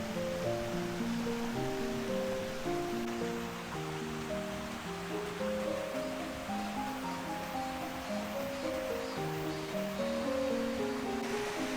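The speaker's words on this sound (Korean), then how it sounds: "사찰 앞 문사동 계곡에 앉아 시원하게 쏟아지는 폭포를 바라보니" Water pours steadily down a waterfall in the Munsa-dong valley on Dobongsan, a constant broad rush heard under a soft melodic music track.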